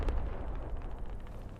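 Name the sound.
Humvee explosion in the video game Squad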